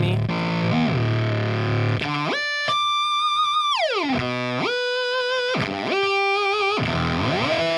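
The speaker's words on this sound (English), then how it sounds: "So we can do a whammy." Electric guitar run through a Fuzzrocious Croak pedal in whammy mode, distorted notes swooping sharply up and down in pitch, sliding glides and sudden octave jumps, loud and continuous with no talking.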